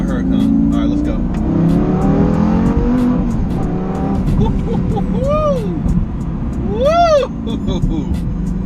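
A Lamborghini Gallardo engine revs and roars loudly, rising and falling in pitch, with a voice shouting over it.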